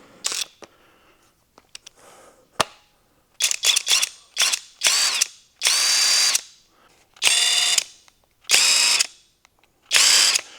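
Repeated short bursts from a 1/2 inch drive rattle gun impact wrench in a fabrication shop, loud and close, with pauses between each burst and no talking.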